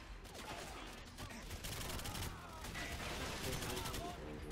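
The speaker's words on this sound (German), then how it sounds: "die haben auf diese Computer-Ding geschossen" Gunfire in the video game GoldenEye 007: Reloaded, rapid bursts of repeated shots clattering throughout, moderately loud, with a voice speaking faintly underneath.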